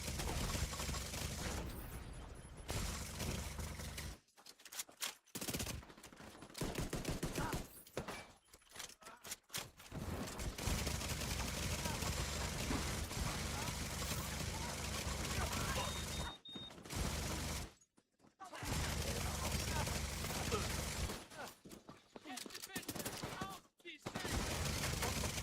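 Gunfire in The Division 2, blind fire sprayed from cover: dense bursts of shots run almost continuously, broken by brief silent gaps, loud and close against a busy game soundscape.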